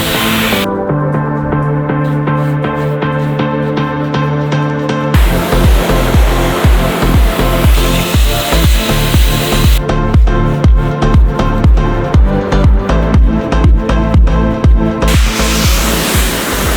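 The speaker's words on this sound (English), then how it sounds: "I'm also going to be using Giraffe Tools pressure washer as well." Giraffe Tools pressure washer spraying a car, a loud hissing water jet that runs steadily then breaks into rapid pulsing bursts as the spray sweeps, close and without talk.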